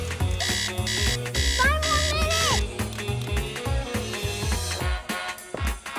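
Gun-shaped alarm clock going off with a loud, repeated electronic alarm pattern of bright bursts and warbling tones, set against a musical background.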